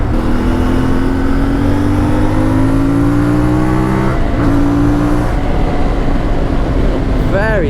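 A motorcycle engine revs and runs steadily up close, pitch rising and falling with throttle changes, loud and continuous throughout.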